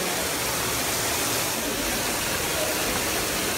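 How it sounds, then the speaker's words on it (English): A waterfall at Longwood Gardens gives a constant, dense rushing hiss that fills the whole moment at steady volume, with no pauses or voices breaking through. "It's a waterfall."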